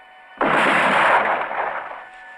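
A firing squad fires a single sharp, loud volley of rifles at once, a sudden burst that rings out and trails off in a fading echo over a couple of seconds.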